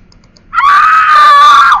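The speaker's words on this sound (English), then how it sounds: "I hit the bad guy. You hear the scream sound, and it gives me negative points." A scream sound effect plays when the player hits the bad guy in a game running on an emulator, a single loud, sustained cry rising abruptly after a faint tick or two and lasting over a second.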